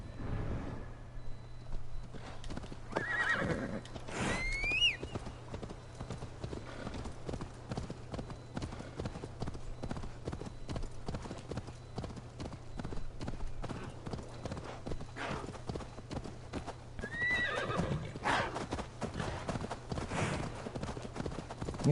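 Steady clip-clop of horse hooves trotting throughout in the video game Assassin's Creed Valhalla, with a couple of short whinnies rising above the rhythm, against a low hum.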